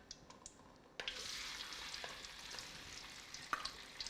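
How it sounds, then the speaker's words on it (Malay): Tofu drops into hot oil with a sharp splash, then fries in a loud, steady sizzle with small pops and crackles scattered through it as it cooks for a Malay coconut vegetable stew. "Kita sambung goreng pula tauhu."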